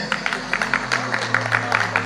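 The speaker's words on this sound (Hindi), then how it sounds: "मैं सिर्फ उन लोगों से कहूँगा ताली बजाने के लिए जो कि अपनी बीवी से प्यार करते हैं, वो ताली बजाए" An audience claps in a hall: quick, fairly even claps from a modest group over a steady low hum, filling a couple of seconds.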